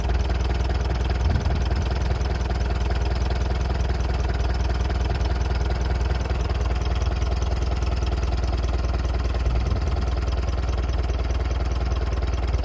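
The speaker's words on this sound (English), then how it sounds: "There you go, a nice low idle." A 1948 Allis Chalmers C tractor engine ticks over at a steady low idle, a continuous even mechanical rumble with light clatter, close by and alone without talk.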